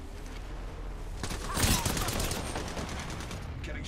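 Gunfire in Apex Legends rattles in rapid bursts, building to a denser volley midway, with game voice lines heard alongside.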